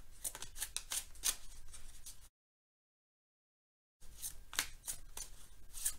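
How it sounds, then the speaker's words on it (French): Tarot cards being shuffled by hand, close and quiet, in rapid riffling bursts of crisp card slaps, broken by a silent gap of under two seconds before shuffling resumes. "je bats des cartes et je prends uniquement celle qui saute"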